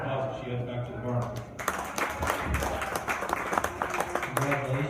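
Scattered clapping from a modest crowd at a fair's sheep show ring after a yearling ewe exhibitor's class, fairly faint and mixed with an announcer's voice and general barn chatter.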